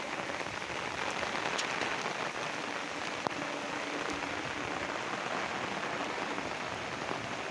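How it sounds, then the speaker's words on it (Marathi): Heavy rain pours steadily over a village in Telangana, a dense, continuous hiss of drops on surfaces close by, with a few sharper drips standing out and no voices. "पाऊस भरपूर पाऊस आहे पाऊस भरपूर पडत आहे"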